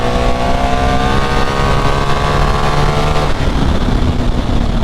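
A 2024 BMW R 1300 GS touring motorcycle engine runs steadily while riding, its loud continuous drone holding level with a faint rise in pitch before easing near the end.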